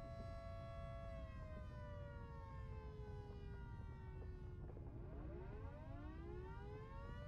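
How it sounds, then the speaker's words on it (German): A loud civil-defense-style warning siren wails steadily in the video game Volcanoids, its tone sliding down and then rising again, with no talk over it. "da kommt auch schon die Sirene, die kurz vor der Minute Sirene sozusagen"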